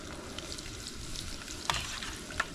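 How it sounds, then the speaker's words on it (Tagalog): Tilapia frying in hot oil in a pan gives a soft, continuous sizzle with a couple of brief crackling pops, fairly faint and without talk. "Gisa natin yung tilapia muna."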